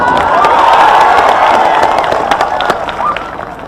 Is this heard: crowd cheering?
yes